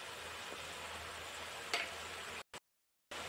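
Bottle gourd pieces frying in a pan for curry, making a steady, soft broadband sizzle that cuts out briefly near the end before resuming.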